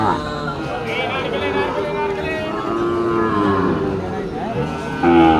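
At a livestock market in Ambari, Dinajpur, a young Sahiwal calf moos in a long, drawn-out, wavering call close by, with crowd chatter and voices in the background.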